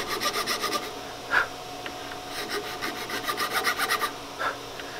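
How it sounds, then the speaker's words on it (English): A hand file rasps a small notch into the walnut stock of a colonial longrifle, in a steady series of short, close scraping strokes with a couple of sharper scrapes in between, and no voices. "this is just a file that I'm using to"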